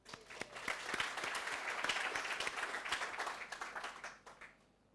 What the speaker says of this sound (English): So give them a clap.